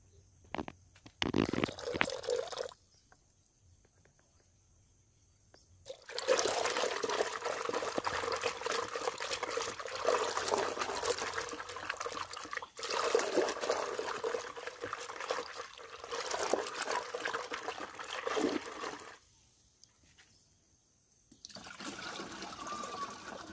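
Water and liquid nano urea are poured into a sprayer tank for an eggplant crop, with bursts of splashing, trickling liquid broken by quiet gaps, close and fairly loud.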